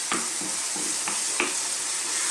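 A tomato mixture of tinned plum tomatoes and tomato puree hits a hot pan for a chilli masala fish fry, sizzling steadily and loudly throughout, with a few soft stirring scrapes and clicks, no talking.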